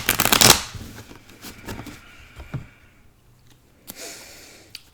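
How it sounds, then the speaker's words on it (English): Tarot cards shuffled quickly by hand, with a loud riffling burst at the start followed by softer scattered card flicks and taps, close up and with no talking. "I'm going to do a little quick shuffle here"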